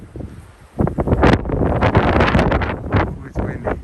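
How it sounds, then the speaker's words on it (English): Gusts of wind buffeting the microphone at the ancient theater of Ephesus, loud, rough and irregular, rising after a quieter start. "Ooh, it's windy."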